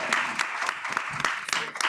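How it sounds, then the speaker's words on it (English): Audience applause at a bilingual community cannabis education event following a deputy borough president's introduction, a moderate room-filling patter of clapping with some uneven bursts, with no one speaking. "Give her another big round of applause."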